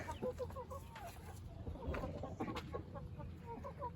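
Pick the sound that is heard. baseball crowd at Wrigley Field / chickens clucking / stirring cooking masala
chickens clucking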